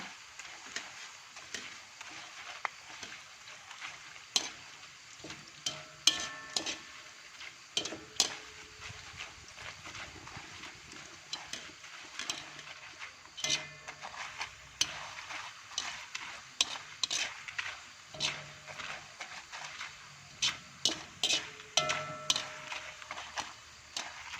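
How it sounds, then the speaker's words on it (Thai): Banana slices fry in oil for traditional banana chips while a utensil stirs them, giving a soft steady sizzle under irregular scraping clicks and knocks against the pan, close and fairly quiet, with no talk. "เราจะทอดจนกล้วยเป็นสีเหลืองทอง"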